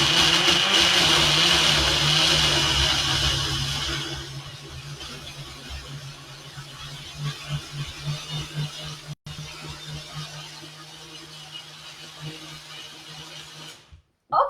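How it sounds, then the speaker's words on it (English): A kitchen blender whirs loudly as it blends soft bananas, the motor steady at first and then easing into a lower, uneven churning for several seconds, before a brief pause and a few faint knocks at the end. "Okay, I'm gonna start blending."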